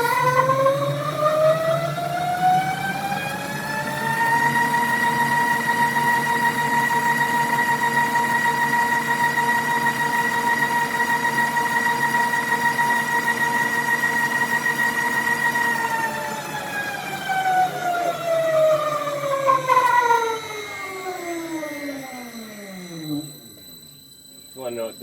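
An Ohlins TTX GP shock is cycled on a dyno during a warm-up run. The machine's motor whines up to a steady loud pitch, holds for several seconds, then winds down, and a person talks briefly near the end.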